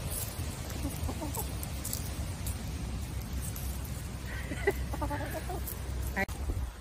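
Backyard chickens clucking in a garden, several short soft calls scattered over steady outdoor background noise, with one brief louder squawk near the end.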